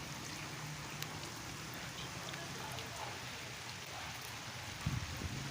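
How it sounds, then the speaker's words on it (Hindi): Steady rain patters down, drops falling into standing water outdoors, a continuous fine hiss with a soft thump near the end and no talking. "वो सामने आपको पानी के अंदर बूंदें गिरती हुई नज़र आ रही होंगी बारिश की"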